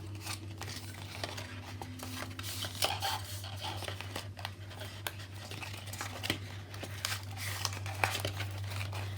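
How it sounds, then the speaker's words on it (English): Paper tabs of an extra-large cardboard cookie box being folded inward, giving a steady run of close crinkling, creasing and rustling with scattered sharp crackles over a constant low electrical hum. "You're going to fold all those tabs to the inside."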